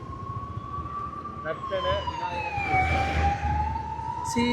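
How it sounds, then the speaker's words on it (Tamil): An ambulance siren wails as the vehicle passes along a road near a temple in Kondavil, Jaffna, its steady tone sliding downward as it goes by, with traffic rumble beneath. "ஆம்புலன்ஸ் ஒன்று போகுது"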